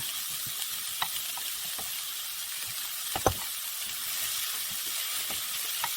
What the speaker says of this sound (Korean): 양파가 조금 이제 숨이 죽은 것 같을 때 당근을 넣어서 같이 또 볶아주겠습니다.